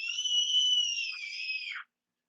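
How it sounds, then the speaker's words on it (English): Charlie screaming while taking a shower: one long, high, piercing screech with a slight waver that lasts almost two seconds before cutting off abruptly into silence. "That screaming you hear in the background is Charlie taking a shower"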